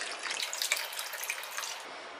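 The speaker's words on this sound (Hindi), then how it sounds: "अभी इसमें पानी डाल देंगे।" Water is poured from a tap or vessel onto washed dal and rice soaking for dhokla batter, a soft, steady splashing trickle with small drips, close by and fairly quiet, with no one speaking.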